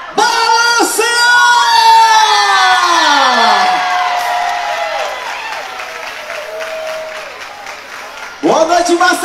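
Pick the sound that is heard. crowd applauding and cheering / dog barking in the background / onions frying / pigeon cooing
crowd applauding and cheering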